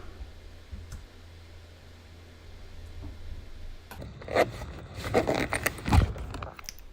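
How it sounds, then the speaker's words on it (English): Zipper closing a small travel case for a Hidizs AP80 Pro X player, a quiet run of close ticking and rasping pulls after a hushed lead-in, with no talk. "and zip it"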